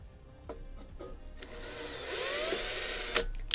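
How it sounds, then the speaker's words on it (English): Power tapping a bolt hole with a 12-volt drill and a drill tap while cable-managing a HotRod LDO Trident 3D printer build: a rising mechanical whir with a few scraping, clicking bursts, fairly close and alone. "It's a drill tap."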